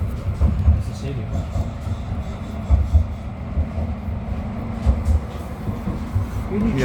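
An Edinburgh tram runs from the airport toward Newhaven with a low, continuous rumble inside the car and periodic rail clacks and thumps. Passengers talk over the steady noise.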